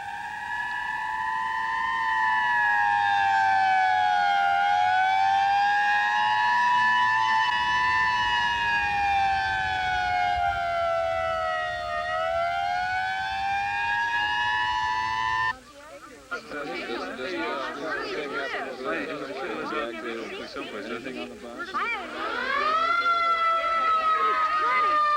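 An ambulance siren wails loudly and continuously in a 1974 film scene, its rising and falling tone sweeping slowly, then giving way to a burst of louder commotion before the siren swells again.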